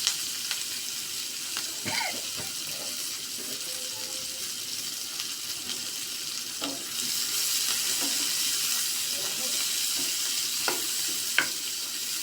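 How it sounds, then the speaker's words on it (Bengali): Onions fry in the same oil previously used for fish, a quiet steady sizzle with occasional clinks and scrapes of stirring, growing slightly louder partway through. "এখন একই তেলে আমি পেঁয়াজটা সুন্দর করে কষিয়ে নেব।"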